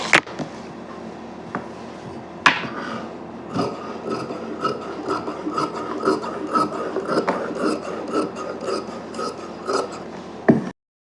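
Old saree fabric is cut into pieces for a kurti, giving a series of close, crisp snips and scraping rubs of cloth at an uneven pace, with no talking.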